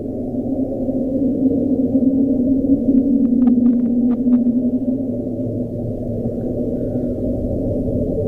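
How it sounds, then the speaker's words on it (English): A recorded underwater ocean sound like a whale call, a low droning rumble held steady for several seconds, with a brief cluster of faint higher clicks near the middle. "Does it not sound like a whale?"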